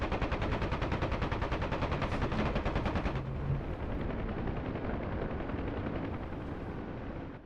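Rapid machine-gun fire hammers away in a DCS World combat game with Huey helicopters, a dense, loud, continuous stream of shots over a droning rotor, the firing tone shifting partway through.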